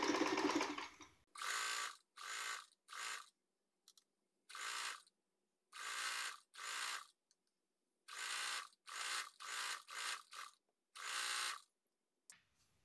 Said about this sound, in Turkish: Zikzak ayarına ve dikiş ayarımı ayarladım. Ve dikme işlemine başlıyorum.